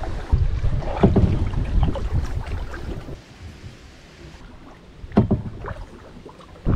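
Gusty wind buffets the microphone while kayaking against the wind on a river, with bursts of rumbling noise and paddle splashes, easing off in the middle before picking up again.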